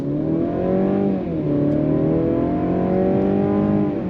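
Interior engine sound of a 2023 Mercedes-Benz C300 accelerating hard in Sport Plus mode with its 9-speed automatic, a loud steady drone that rises in pitch, dips briefly at smooth gear shifts, then climbs again.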